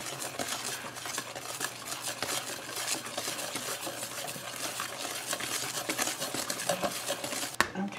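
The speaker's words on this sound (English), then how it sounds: "just whisk it around for about a minute until it gets good and stirred up" A whisk scraping and rattling steadily around a bowl as water is beaten into angel food cake mix, a continuous close patter of stirring with no talk.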